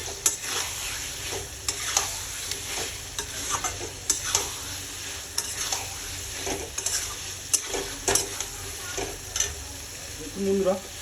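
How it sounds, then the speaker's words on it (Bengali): Chicken is stir-fried in a pan with a constant close sizzle, broken by repeated scraping strokes of a spatula at an uneven rhythm, and no speech. "এটাকে বেশ খানিকক্ষণ আমাকে কষাতে হবে।"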